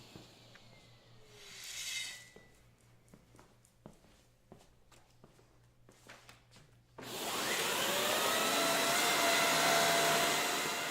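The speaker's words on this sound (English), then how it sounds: "On hard floors, it sucks up common dirt and dust like it was never even there." A Dyson Big Ball Multifloor canister vacuum switches on partway through, its loud, steady broadband suction roar taking over after several scattered taps and knocks on a hard floor and holding evenly to the end.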